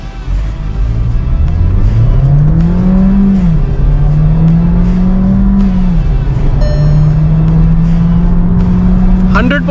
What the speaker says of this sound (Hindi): मैं आपको हार्ड एक्सेलरेट करके भी एक बार दिखा देता हूँ।